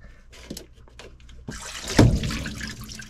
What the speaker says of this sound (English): that will somewhat reduce the amount of water that comes gushing out of here